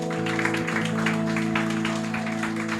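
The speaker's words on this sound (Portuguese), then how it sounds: "Aplauda o Senhor." Church congregation clapping for the Lord at the end of a prayer, a steady dense patter of many hands over a sustained organ or keyboard chord, moderately loud and continuous throughout.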